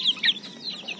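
Labuyo jungle fowl cluck in short high bursts nearby, a few quick calls over a low background hum.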